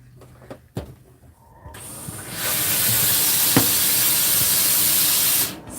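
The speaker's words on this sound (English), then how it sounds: "Steam is your friend when it doesn't lay flat." A steam iron bursts into a loud, steady hiss while pressing fabric, holding for about three seconds before cutting off, preceded by a few soft knocks and handling clicks.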